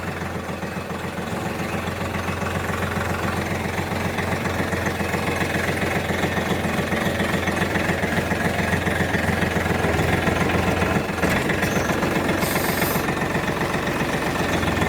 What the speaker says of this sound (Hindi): भाई सब निकाल लिया है ट्रैक्टर बाहर।